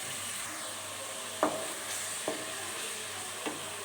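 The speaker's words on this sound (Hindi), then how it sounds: "अब हम इसमें हरी प्याज ऐड कर देंगे और हरी प्याज को भी अच्छे तरीके से भून लेंगे" Green onions frying with ginger and garlic, a faint steady sizzle with a few scattered stirring taps, quiet and without talk.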